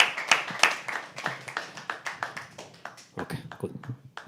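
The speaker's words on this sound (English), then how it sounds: "Can we please have a round of applause for all these people?" An audience at a live poetry open mic claps in a round of applause, a quick series of close, irregular hand claps from a small group that thins out briefly before picking up again.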